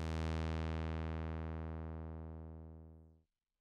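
A SuperCollider synth tone run through a filter whose cutoff sweeps down from 15,000 to 500 Hz over about four seconds, a rich buzzy tone growing steadily duller and quieter before cutting off abruptly, heard alone.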